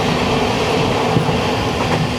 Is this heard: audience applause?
no